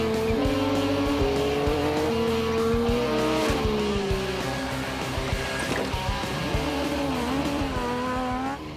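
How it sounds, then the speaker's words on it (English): A 2006 Yamaha YZ125 two-stroke dirt bike being test ridden: its loud, close engine revs and shifts pitch continuously, rising and falling through the gears with a buzzing, raspy drone and no voices. "I'm test riding this yz125 because I'm going to give this old two-stroke the royal treatment"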